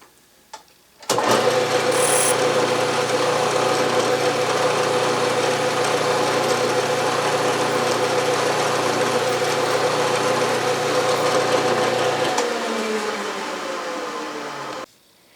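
A lathe starts up and runs steadily as a drill bores into a Stuart Progress steam engine casting, a loud even machine hum with a tonal whine that slows down before stopping.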